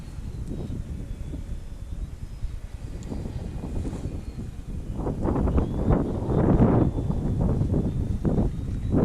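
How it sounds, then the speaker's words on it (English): Wind blows across an outdoor RC model airfield, a steady rumbling buffet on the microphone that grows louder and gustier in the second half, with a faint high model-jet whine in the background and no talking. "Getting a little breezy out."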